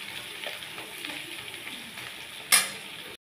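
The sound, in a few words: potatoes and onion frying in a pan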